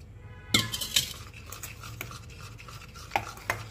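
Milk poured and stirred into Oreo cake mix in a bowl, with a few sharp clinks of a utensil against the bowl and quieter scraping in between.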